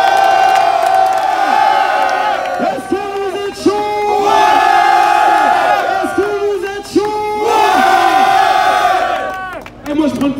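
A large crowd at an outdoor rally supporting striking rail maintenance workers near Paris Nord cheers, whoops and shouts loudly and continuously, with voices rising and falling in waves and no single speaker standing out.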